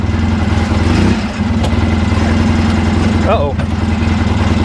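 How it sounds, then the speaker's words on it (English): Polaris RZR 800S side-by-side engine idling around 2,500 rpm, a loud steady close rumble throughout while someone talks over it. "we got a good idle at"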